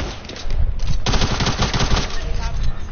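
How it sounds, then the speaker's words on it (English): Rapid submachine gun fire from a TAC SMG in a first-person shooter video game, a loud, dense stream of shots that picks up after a brief lull and runs almost unbroken to the end. "Taylor picks up a TAC SMG"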